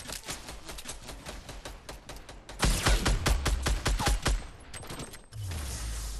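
Rapid volley of grenade launches and blasts in a first-person shooter game, a dense burst of repeated sharp thumps and booms with a heavy rumbling low end, loud and close, with no talking.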